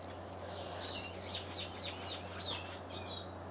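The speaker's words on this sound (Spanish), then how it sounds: "están todos los pájaros a todo lo que da y los ruidos" Birds singing outdoors, faint repeated high chirps and short tweets over a low steady background hum.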